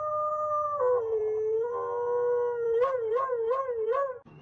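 A person howls and whines in a drawn-out, wavering voice imitating a dog, ending with a few pulsing yelps before a short break.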